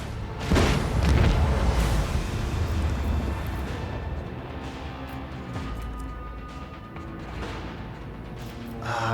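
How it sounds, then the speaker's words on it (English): Macro cannon fire in Rogue Trader's space combat, one loud deep boom that opens a long, rolling barrage rumbling on for several seconds before it tapers, then picks up again at the very end. "Macro cannon again to hit this one."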